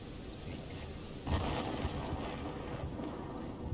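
A distant thunder rumble rolls in during a storm in the video game Man of Medan, a low swelling boom over steady rain-like hiss, fairly faint and continuous.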